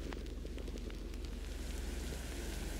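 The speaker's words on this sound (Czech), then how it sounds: "V pozadí je slyšet silný déšť" Steady dense patter of heavy rain with scattered crackling drops, loud and continuous throughout, no voices.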